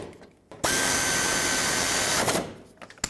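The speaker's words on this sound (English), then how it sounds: "Start the bolts, let's snug them up." A power tool on a 2003-2008 Subaru Forester radiator job, running in one loud continuous whirring burst of about a second and a half as it snugs the mounting bracket bolts, with faint clicks and handling noise around it.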